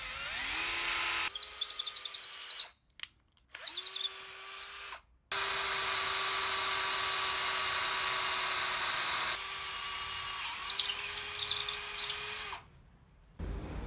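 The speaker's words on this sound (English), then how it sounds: "let's go ahead and drill through that." Power drill boring holes through a homemade wooden nunchuck, loud steady whine with several bursts and short pauses between runs, one long sustained drilling stretch in the middle.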